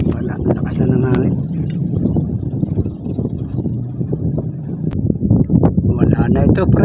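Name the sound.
strong wind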